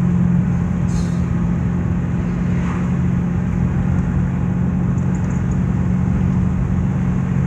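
A car engine runs with a steady low rumble throughout, loud and continuous, with a faint higher whine and no speech over it.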